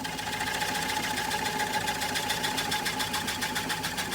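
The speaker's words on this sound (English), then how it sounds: "We'll slow the lathe down, and I'll show you how we finalize this" A wood lathe spinning while turning a black walnut bowl, a steady close mechanical whir with a fast regular pulsing rattle and a constant hum.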